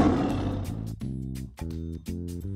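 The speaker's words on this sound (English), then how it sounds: "Tiger." A tiger's rough roar rises up and fades over the first second, followed by upbeat pulsing music that carries on to the end.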